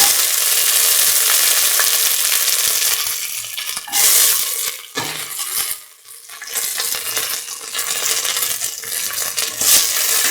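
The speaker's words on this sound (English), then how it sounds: "try to saute" Coconut-milk pasta sautéing in a pan gives a steady, loud sizzle with scraping stir strokes, briefly dipping around a couple of pauses before the frying hiss resumes, with no voices.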